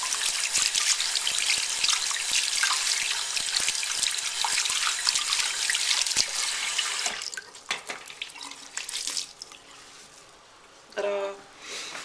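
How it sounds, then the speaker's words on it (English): Water is poured onto a soldering-iron cleaning sponge, giving a steady, close trickle for several seconds before it fades into quieter drips and handling sounds, with a faint voice near the end. "I put some water on here so I can use this to clean the soldering iron."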